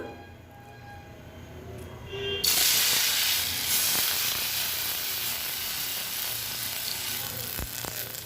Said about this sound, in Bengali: আর একবার দিয়ে দিব কড়াইতে বড়াগুলো।